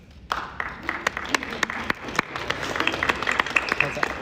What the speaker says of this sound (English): Show of applause.